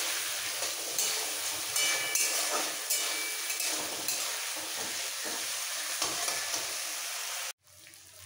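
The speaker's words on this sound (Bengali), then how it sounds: "এবার একটু কষিয়ে নিতে হবে মশলার সাথে আলুটা।" Potatoes sauté with spices in a pan for a fish curry, giving a dense, steady sizzle with occasional stirring scrapes that runs unbroken until it cuts off abruptly near the end.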